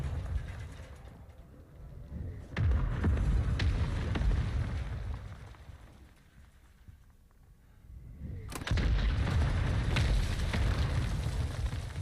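Heavy artillery strike in a battle royale shooter game, a deep rumbling boom that swells in, fades, then erupts again loudly, with low crackling debris and mechanical rattles beneath.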